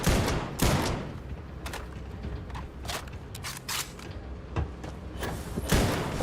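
A gun fires several quick shots in the video game Starfield, sharp loud bursts spaced irregularly with thuds and scuffs between them, close and punchy.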